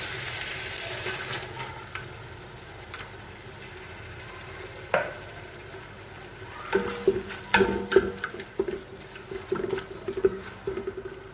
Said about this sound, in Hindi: अब इसे मज़ीद हम भूनेंगे।